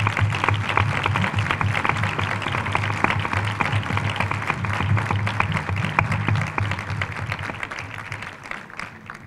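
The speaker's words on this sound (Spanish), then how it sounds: "que recibas un fuerte aplauso por parte de todos los que esperábamos ansiosos" Audience at a book presentation breaks into sustained applause, a dense, even clapping from a full room that holds steady and then gradually thins out toward the end.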